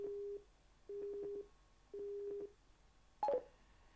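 Phone dialing tones from a Cardo PACKTALK Bold motorcycle intercom speed dial: three short bursts of rapid keypad beeps at even intervals, then a brief higher chirp, clear and close against a quiet background.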